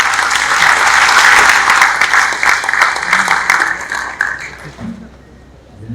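A crowd applauds Prime Minister Modi at a public event in a sustained burst of clapping that holds loud for several seconds, then thins and fades toward the end.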